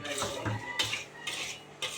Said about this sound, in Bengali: এই দেখো সুজিটা আমার লাল লাল হয়ে ভাজা হয়ে গেছে